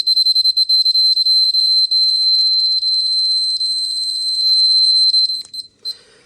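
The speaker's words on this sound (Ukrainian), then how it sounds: "І чим ближче, тим частота збільшується пікання" A Polimaster PM1703M-01 dosimeter beeps loudly in a rapid, high-pitched train of pulses that runs almost continuously before breaking into a few separate chirps at the end.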